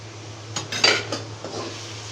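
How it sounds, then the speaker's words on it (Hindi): Egg fried rice, seasoned with black pepper, salt and vinegar, is stir-fried in a pan: a short burst of sharp metal spatula clanks and scrapes, then a few softer scrapes, over a steady low hum. "इसको मज़ीद 2 मिनट के लिए भून लेते हैं।"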